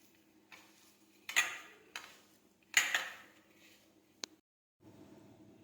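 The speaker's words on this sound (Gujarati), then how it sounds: "હવે આપણે બધો મસાલો છે તે મિક્સ કરી દઈશું।" A spoon stirs lemon juice and spice mix for stuffed okra in a bowl, giving a few sharp scrapes and clinks spaced apart, close and fairly quiet, with no voice.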